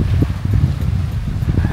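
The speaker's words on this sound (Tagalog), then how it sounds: "Hangin." Gusty wind buffeting the microphone in short low bursts at a lakeside campsite in Cavinti, Laguna, a rough rustling roar lasting a couple of seconds.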